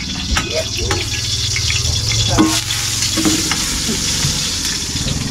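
Steady frying sizzle from a pan of canned sardines cooking, with occasional stirring scrapes and clinks, continuous and fairly close.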